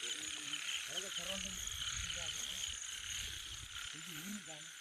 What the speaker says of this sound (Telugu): ఈ కొండ కాలువల దగ్గర నీళ్లు శబ్దం మరియు కప్పల శబ్దాలు తప్ప ఏ శబ్దం వినబడదు